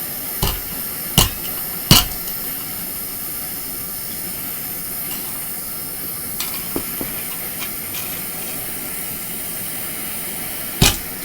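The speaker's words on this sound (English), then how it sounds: "I'm going to take my hammer, try to flatten it out a bit." Sharp metallic hammer strikes flattening a piece of metal ring out, three in quick succession, then a long pause with faint taps and one final blow.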